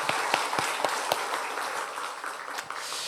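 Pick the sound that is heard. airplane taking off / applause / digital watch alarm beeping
applause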